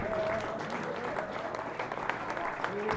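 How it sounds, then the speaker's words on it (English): A rugby crowd gives a departing Boroughmuir Bears player a steady ovation, a continuous wash of distant clapping with a commentator talking over it. "Robbie McCallum is being clapped off and given a rousing ovation for what could well be his final match as a Bear"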